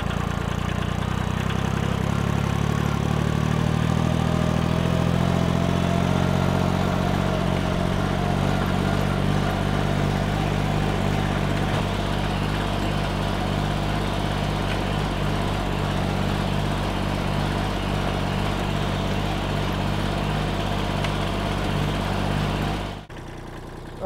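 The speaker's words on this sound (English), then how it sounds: "Come on, tractor." A tractor engine runs at an off-grid earthbag workshop while sand is being fetched, a loud, steady, close idling drone that holds for over twenty seconds before cutting off abruptly at the end.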